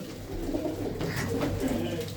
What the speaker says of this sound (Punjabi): ਇਹ ਆ ਦੇਖੋ ਇੱਕ ਕਬੂਤਰੀ